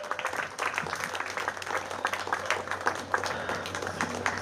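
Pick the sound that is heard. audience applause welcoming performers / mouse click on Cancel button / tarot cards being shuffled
audience applause welcoming performers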